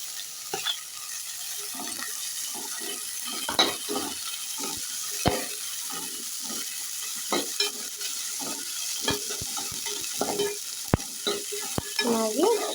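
Carrots and beans frying in oil in a pan, with a steady broadband sizzle and repeated scraping stirs throughout, close and fairly loud, with no talking.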